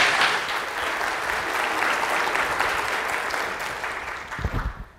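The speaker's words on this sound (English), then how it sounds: "So please give him a big round of applause." A conference audience applauds a speaker about to present, broad steady clapping that fades toward the end, followed by a few handling thumps near the close.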